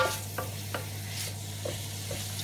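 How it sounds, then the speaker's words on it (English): A keto dish simmers and fries in a pan with a quiet, steady sizzle over a low hum, broken by a few soft stirring scrapes and clinks, with no talking. "leave it cook, leave it simmer, and it will be very quickly ready"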